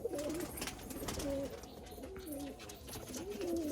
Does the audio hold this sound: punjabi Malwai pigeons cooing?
yes